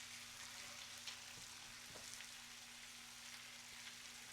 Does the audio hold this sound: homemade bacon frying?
yes